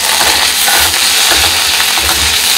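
Onions with green chilies and ginger garlic paste frying loudly in a pan, a continuous close hiss and sizzle with faint stirring, no voices.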